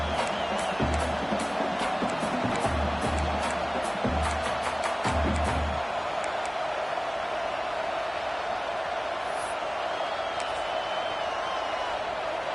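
A dense, steady roar from a football stadium crowd as a kicker lines up a field goal attempt in a UCLA versus Nebraska game, a broad wash of many voices holding level throughout, with some low thumping in the first half.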